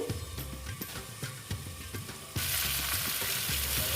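Pumpkin and spices sautéing with five-spice seasoning in a pan as a lid goes on, a steady close sizzle with repeated scraping stirs, the hiss swelling louder and fuller once covered.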